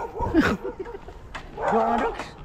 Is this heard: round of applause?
no